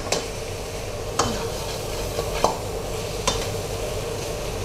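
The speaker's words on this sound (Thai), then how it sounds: "คั่วหน่อยนะครับคั่วให้เขาแบบมีความหอมให้เขาแบบว่ามีแบบปลายข้าวไม่ไหม้นิดนึงนะครับ" Fried rice with shrimp and XO sauce being stir-fried in a wok, a steady sizzle with a few sharp scrapes and clinks of the spatula against the pan, close and without talk.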